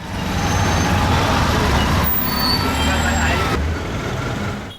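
Busy street traffic in India rolls past a rickshaw as a loud continuous roar of engines and trucks, with a brief air-brake-like hiss partway through and faint voices mixed in.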